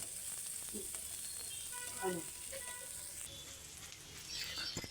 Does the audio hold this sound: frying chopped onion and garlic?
yes